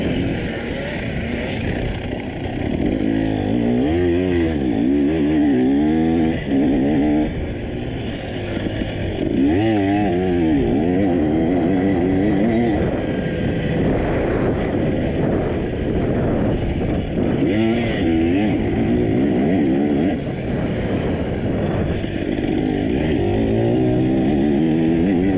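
Racing car engine in the TORCS driving game at Blackland Prairie Ranch, a loud continuous whine with rising and falling pitch sweeps as gears shift, running steadily throughout without talk.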